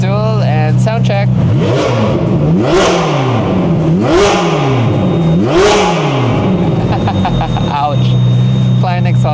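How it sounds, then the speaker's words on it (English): A car with an aftermarket exhaust revs hard in repeated rising and falling sweeps, loud and close, with several throttle blips and crackles at the end. "Flying exhaust sounds so amazing on this car."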